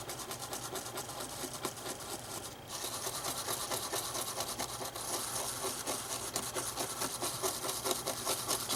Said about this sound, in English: Put a little bit of sanitizer on your toothbrush and then just gently rub.